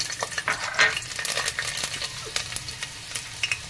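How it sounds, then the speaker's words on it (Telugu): Four peeled garlic cloves drop into hot oil and fry with a soft, crackling sizzle, punctuated by light scraping and clinking of a spoon against the pan; nobody speaks. "ఒక 4 ఒలుచుకున్న వెల్లుల్లిపాయలు వేసేస్తున్నాను."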